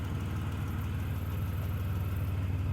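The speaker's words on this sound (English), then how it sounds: "It's running really, it's sitting here idling just fine now." A 1991 Dodge Grand Caravan engine idles steadily and evenly up close, a low, constant rumble with a faint whir on top, and nothing else audible.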